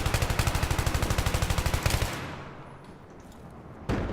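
Rapid automatic gunfire from a rifle in Battlefield 3, tapped out in a fast, even burst of about two dozen shots lasting two seconds, then a decaying echo tail and one more shot near the end.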